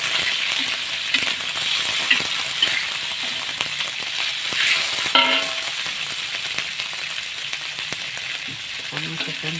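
Spices for yellow pickled fish (ikan acar kuning) sizzle steadily in a pan while being stirred, giving a continuous close hiss broken by occasional scraping and clinking from the stirring.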